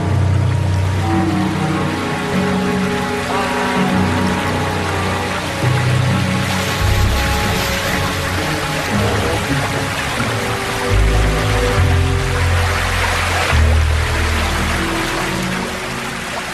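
Steady rushing roar of a waterfall where grizzly bears fish for salmon, a broad continuous wash of falling water at close range with no voices, swelling and easing slightly throughout.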